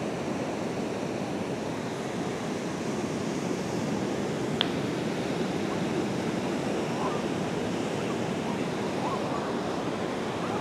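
Wind and sea surf at a beach in Phuket, Thailand, on a cloudy day, forming a steady, dense roar of breaking waves and gusting air that fills the whole stretch, with no clear breaks and one brief faint click midway.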